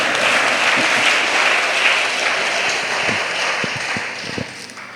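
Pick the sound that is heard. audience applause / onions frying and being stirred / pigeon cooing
audience applause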